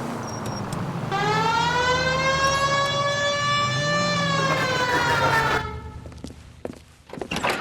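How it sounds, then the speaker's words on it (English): A police car siren wails in the L.A. Noire video game, a loud rising and falling electronic tone over engine rumble that cuts off abruptly near the end. "Hit the siren."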